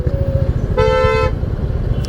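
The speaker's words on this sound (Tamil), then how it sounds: "ஃபுல் டிராஃபிக்காக இருக்குது." A horn gives one short, loud toot amid heavy road traffic on the outskirts of Bangalore, with the steady rumble of engines running underneath throughout.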